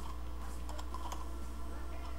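Keystrokes on a computer keyboard as a username is entered during VPN connection setup, a short run of light, close clicks over a steady background hum.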